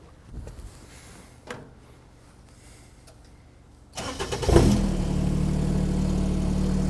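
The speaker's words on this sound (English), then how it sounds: "So now I'm going to try to raise the machine from the base." A SkyJack SJ6832 scissor lift is raised from its base controls: a few quiet clicks and thumps, then the lift motor and pump kick in loudly and hold a steady, droning hum.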